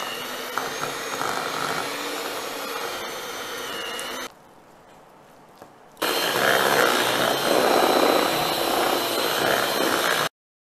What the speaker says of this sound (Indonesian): Prosesnya kita mau mixer dulu shorteningnya, kurang lebih sekitar 3 menit.